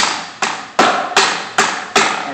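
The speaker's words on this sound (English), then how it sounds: "So I'm going to take this hammer" A hammer beats on a piece of cured sewer pipe lining, giving six sharp, evenly spaced strikes with hard broadband attacks and short decaying rings, close and loud with no talking.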